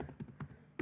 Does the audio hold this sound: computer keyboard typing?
yes